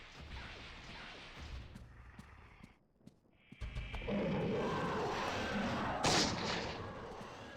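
Heavy gunshots and booming blasts sound in the video game Eternal Darkness. There is a sharp volley, then a short near-silent gap, and then a sustained roaring barrage with a loud spike near the end.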